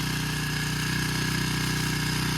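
A vehicle engine idles steadily close by in a rice field with a low, even chugging throb, held at a constant level.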